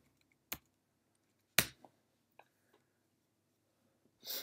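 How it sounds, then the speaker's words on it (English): A few isolated keystrokes sound on a computer keyboard while a command is typed, as quiet, close, sharp clicks separated by gaps of silence, ending in a slightly longer clatter. "Let's type in telnet, we'll hit enter"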